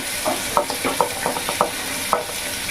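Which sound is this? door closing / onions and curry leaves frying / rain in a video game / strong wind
onions and curry leaves frying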